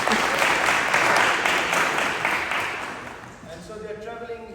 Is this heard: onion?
no